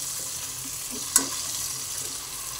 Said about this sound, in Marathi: टोमॅटो पण चांगला फ्राय करून घेऊया।